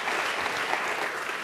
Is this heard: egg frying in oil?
no